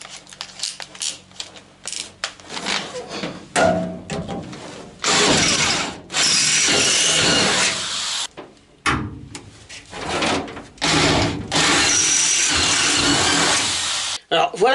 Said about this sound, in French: Là maintenant, je mets un forêt de 8.